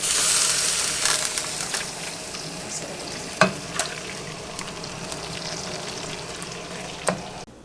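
Cooked ravioli sizzle in a pan of butter lemon sauce, a steady bright hiss broken by a few spoon scrapes and clinks, close and clear.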